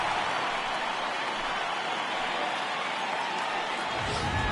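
Capacity crowd of nearly 49,000 on their feet at an Orioles–Twins opening-day baseball game in Baltimore, a steady loud roar of voices filling the stadium with a final-strike tension.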